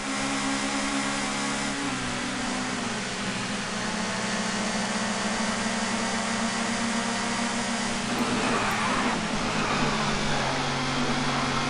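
A touring car's engine drones steadily at high revs in the TOCA 2 racing game, on a wet track with slick tyres, loud and constant throughout with a brief shift in tone near the end.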